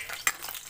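Garlic dropped into hot oil for chop suey, a short burst of sizzling with one sharp clink of a utensil, brief and fairly quiet.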